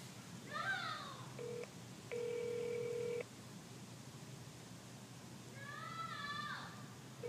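Telephone keypad dialing tones for a prank call to a grocery store, two distinct beeps, a short one and then a longer one, fairly clear against a quiet background, with faint chirping sounds before and after.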